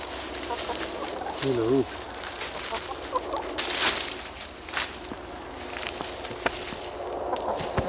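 Chickens on a zone 3 flower farm clucking nearby, with one short distinct call and a few softer clucks over outdoor rustling and brief speech.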